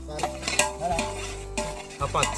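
Food frying in a pan in a village kitchen, loud close sizzling with a spoon stirring and scraping against the pan, in bursts over a low background hum.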